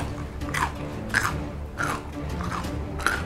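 A pumpkin spice jalapeno pepper is bitten and chewed close to the mouth, producing repeated loud crunches about every half second over a steady background of mastication.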